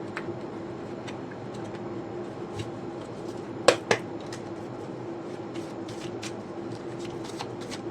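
Tarot cards are handled and shuffled close up, with soft repeated riffles and slides, a couple of sharper snapping card flicks in the middle, and a low steady room hum underneath.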